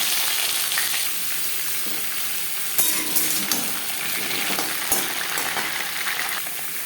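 Papaya pieces sizzle in hot oil with cumin seeds and bay leaf in a pan, a steady close frying hiss with a few sharp crackles and stirring clinks.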